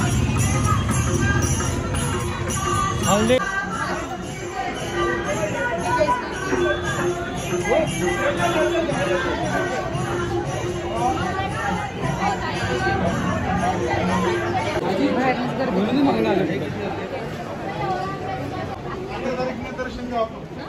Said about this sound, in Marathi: रात्रीची एवढी गर्दी आहे तर दिवसा किती गर्दी आहे